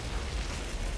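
Explosion from the Charred Lance weapon in the video game Outriders, a dense, loud burst of rumbling noise that fills the whole moment.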